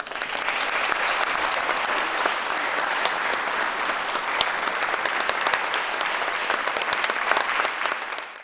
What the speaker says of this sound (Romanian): a smuls ropote de aplauze